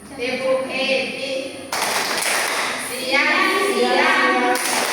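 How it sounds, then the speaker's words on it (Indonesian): Children clapping in unison during a tepuk happy ice-breaking clap game in a classroom, sharp rhythmic claps close by with kids' voices and chanting mixed in throughout. "Melakukan ice breakingnya tepuk happy."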